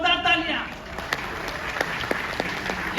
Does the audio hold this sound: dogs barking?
no